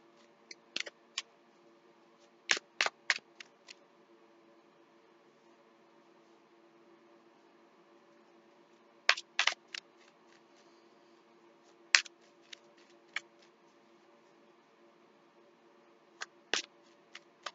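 Tarot cards flipped and snapped down during an intuitive reading, heard as sparse clusters of sharp, close papery clicks and flicks separated by quiet pauses, with no talking.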